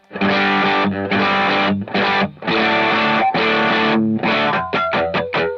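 An electric guitar through a 1981 Inventions DRV2 drive pedal with the drive turned up plays thick, distorted chords and held notes in loud bursts, ending in a quick run of short stabbed hits, with no talking.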